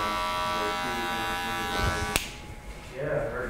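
Electric hair clippers with the guard removed, cutting a taper, make a steady, close, harmonic buzz for about two seconds before a sharp click cuts it off, leaving faint background noise.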